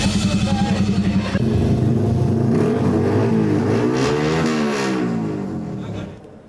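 A motorcycle with a loud, non-standard aftermarket exhaust revs hard nearby, starting with a rapid throbbing idle and then rising and falling through several surges before fading toward the end.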